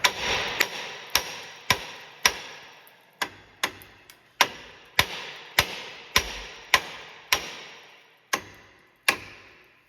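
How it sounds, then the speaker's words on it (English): A hammer strikes the steel steering knuckle of a 2013 Ford F-150 again and again to free a tapered tie rod end. The blows are sharp, loud and evenly spaced, around fifteen of them, each ringing briefly, with no talking. "So if you hit it right here, then it shocks the steel and the shocking just relieves that tension"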